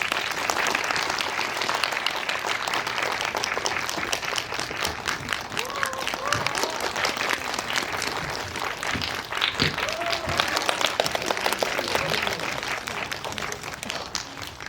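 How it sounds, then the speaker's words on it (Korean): A crowd at a Korean film talk event for the movie Kingmaker welcomes its guests with sustained, dense applause, steady and loud throughout, with a few voices cheering over the clapping. "큰 박수로 맞이해주세요."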